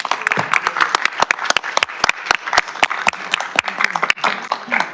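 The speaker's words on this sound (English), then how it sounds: "We can please give them a round of applause." Audience applause at a city council meeting for a proclamation, with sharp individual claps standing out from a moderate crowd, loud and close and continuing steadily throughout.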